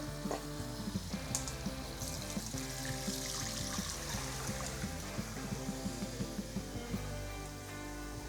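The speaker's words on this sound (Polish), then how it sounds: "przelejemy teraz przez sitko do innego przygotowanego garnka" Hot chilli oil trickles and sizzles steadily as it pours through a sieve into another pot, with faint metallic clinks and a low hum underneath.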